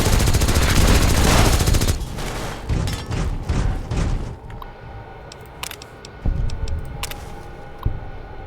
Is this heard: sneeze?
no